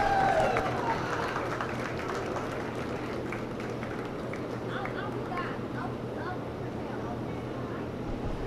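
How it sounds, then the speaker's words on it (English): A crowd at a county fair's Pee Wee dairy showmanship class applauds the champions. The clapping is a dense, steady patter that holds at an even level throughout and fades only slightly toward the end. "Give them all a big round of applause for me."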